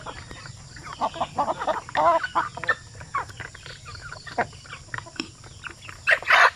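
Chickens clucking and squawking in short, irregular bursts, several birds close by near a net, with quieter background chatter between calls.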